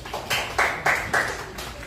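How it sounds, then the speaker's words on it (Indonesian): Applause in a classroom during a micro-teaching lesson: a short burst of several sharp, moderately close claps, uneven in rhythm and fairly thin, as from a small group. "Oke, kita kasih tepuk tangan."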